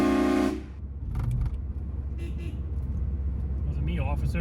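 Train horns fitted to an Opel Astra car blast one loud, brassy multi-tone note for about half a second, then cut off, leaving steady road and engine noise from inside the moving car.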